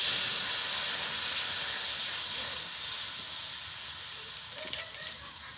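A steady sizzling hiss, loud at first and slowly fading, as water hits a hot kadai, with no talking.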